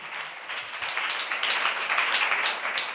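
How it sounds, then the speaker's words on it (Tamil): Congregation clapping at a Tamil Christian church service, a dense steady patter of many hands filling the whole stretch at moderate level without voices on top. "நல்ல கைத்தட்டி."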